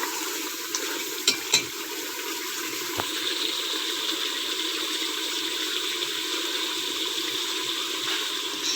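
Mutton frying in ghee for palak gosht gives a steady, even sizzle with a faint watery hiss throughout, broken by a couple of brief clinks near the start. No one speaks.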